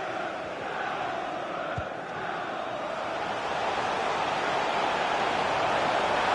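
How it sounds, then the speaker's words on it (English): A stadium crowd in the FIFA 23 football video game, in a Liverpool match, roars in a steady, dense wash of cheering that swells slightly toward the end, with no clear speech. "Being egged on by the crowd."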